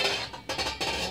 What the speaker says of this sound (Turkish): Ben buradan tabak da çıkardım.